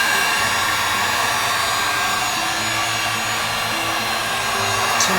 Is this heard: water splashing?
no